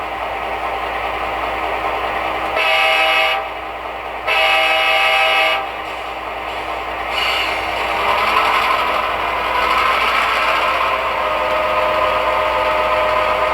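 A model Athearn Genesis GP15-1 diesel locomotive with Tsunami 2 digital sound rumbles steadily with a droning engine and dynamic exhaust, interrupted by a couple of long horn blasts, followed by continued engine noise.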